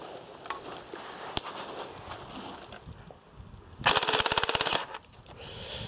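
An airsoft gun with a 12-volt mini gearbox fires one rapid full-auto burst lasting about a second. It is loud and close, with an earlier single sharp click and quiet outdoor background around it.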